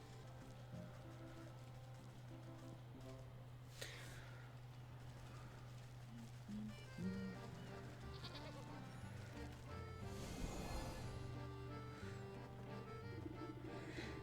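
Sheep bleating in the fantasy crafting game Wytchwood, a few distinct bleats heard alone over a steady low game hum and light ambient effects.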